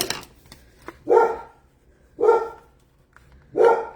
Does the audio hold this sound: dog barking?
yes